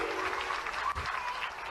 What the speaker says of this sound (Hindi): जोरदार ताली बजाओ श्रीमान नरेंद्र मोदी जी के लिए